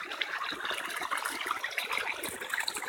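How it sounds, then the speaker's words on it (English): A roadside waterfall swollen by heavy rain pours steadily, a broad continuous rushing wash of water heard close and fairly loud, with no talk. "Got a waterfall on the side of the road"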